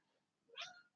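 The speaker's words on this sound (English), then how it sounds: "That's the cat." A single short cat meow, quiet and close, rising then falling in pitch over a faint background hiss.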